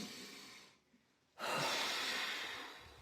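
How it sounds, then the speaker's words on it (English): A person takes a single deep breath: a quiet exhale fades into a brief pause, then a long, loud, airy inhale follows close to the microphone. "let's all take a deep breath"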